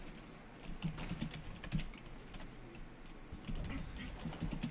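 Quick, irregular clicks from a computer keyboard being typed on, close and fairly faint over a low background murmur.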